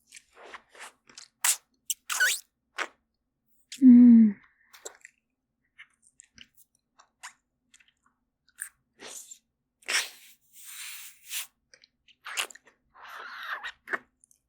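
Vampire neck-biting and feeding in an ASMR roleplay, made up of close, intimate wet mouth clicks, bites and slurping squishes in sparse bursts, with one short low vocal sound midway against near silence.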